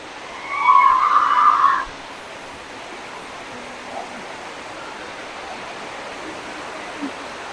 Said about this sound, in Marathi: इकडे धबधबा आहे असा वरून पडतोय